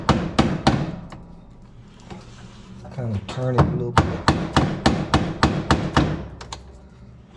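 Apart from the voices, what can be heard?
hammer tapping GE washing machine nut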